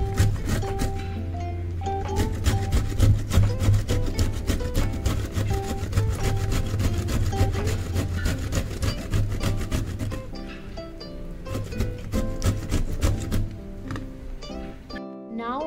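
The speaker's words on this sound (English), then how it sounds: "I have peeled already this raw mango. Now I am going to grate it" Peeled raw mango is grated on a hand grater, a close rhythmic rasping scrape repeating rapidly and steadily, slowing and thinning out near the end.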